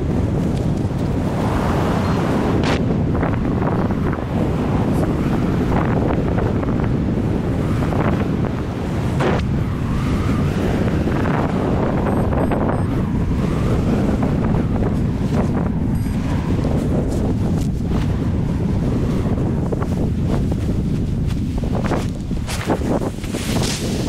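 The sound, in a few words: wind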